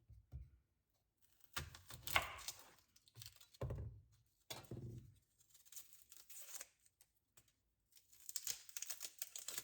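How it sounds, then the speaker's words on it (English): A knife chops an onion finely on a board, producing faint, close, irregular cutting and crunching strokes in short clusters separated by pauses. "And you're gonna chop this finely."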